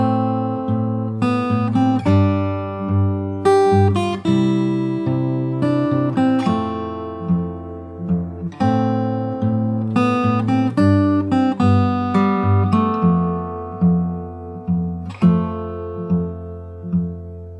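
Solo fingerstyle acoustic guitar plays the bridge of a pop song: plucked bass notes under ringing melody tones, steady rhythmic picking with repeating phrases, close and clear with no voices.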